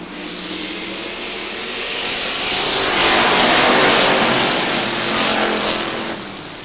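A pack of street stock race cars roars past at Hudson Speedway in New Hampshire, a broad engine wash that swells to a loud peak mid-clip and eases off again, with no talk heard.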